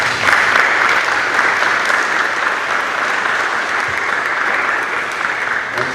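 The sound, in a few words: applause at a ceremony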